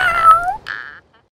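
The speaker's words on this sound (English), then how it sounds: "Cat. Meow." A cat gives a loud, close meow in two drawn-out rising and falling calls, alone with no talking, ending in silence.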